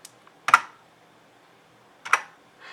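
Two crisp, isolated computer keyboard key presses about a second and a half apart, close and clear in an otherwise quiet room, one of them the Windows key.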